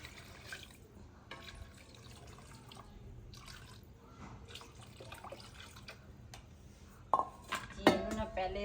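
Water pours into a karahi set on the stove in a village kitchen, with clinking metal pots and utensils throughout and a few louder splashes and clatters near the end.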